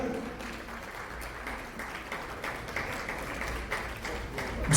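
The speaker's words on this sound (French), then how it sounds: "Sous vos applaudissements" An audience applauds dancers at a dance competition in Haiti, a soft, continuous wash of clapping heard from a distance in a large space, swelling slightly at the end.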